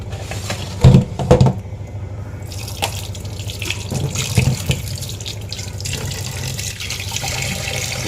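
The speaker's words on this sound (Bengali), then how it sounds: "চলো মাছটা ধুয়ে নিই" Tap water runs into a kitchen sink while a hilsa fish is washed, steady splashing with a few louder gushes and handling noises up close.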